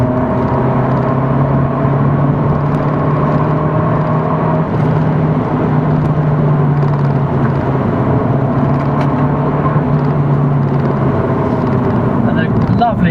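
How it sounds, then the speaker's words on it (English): An Abarth 695C Rivale engine drones steadily with a deep, throaty exhaust note, holding a constant hum throughout with slight variations in pitch. "the exhaust note and the engine note is just absolutely sublime"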